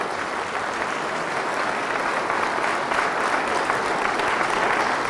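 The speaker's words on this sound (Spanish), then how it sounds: "Fuertes aplausos a Jesús de Nazaret." Loud, sustained applause from a church congregation during a healing service, steady clapping filling the whole stretch without voices on top.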